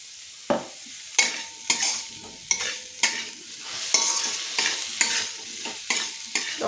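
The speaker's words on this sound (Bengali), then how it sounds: "টমেটোটা গলা অবধি আমি এটাকে একটুখানি নাড়াতে থাকবো" Spoon stirring tomato into a mustard and poppy-seed paste with green chilies in a frying pan, a series of repeated scraping strokes over a soft, steady sizzle, close and clear with no voices.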